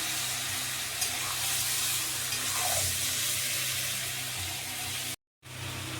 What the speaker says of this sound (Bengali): এবারে আলু আর চিকেনটা ভালো করে এবারে আমি মিশিয়ে নেব